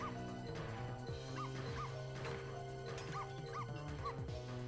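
A small dog in the video game Ghost Trick yips and whimpers in short rising cries, several bursts over a steady game music bed, fairly clear and close.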